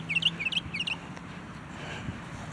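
Small birds chirp outdoors in three quick, bright bursts of tweets during the first second, then fall silent against a faint low background hum.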